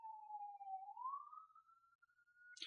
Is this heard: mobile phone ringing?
no